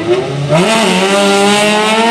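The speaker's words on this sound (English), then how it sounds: "1965 Mini with the Honda engine in the back." Rear-mounted Honda engine in a 1965 Mini racing on a track, revving hard and rising in pitch as the car accelerates past, loud and close with no talk.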